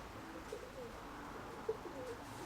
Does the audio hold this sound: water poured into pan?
no